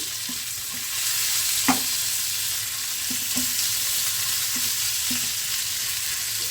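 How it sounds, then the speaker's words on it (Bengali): Potatoes stirred in a pan with turmeric and chili powder, a steady low sizzle broken by soft, regularly spaced scrapes and taps of the spoon. "খুব ভালো করে নেড়ে দিই"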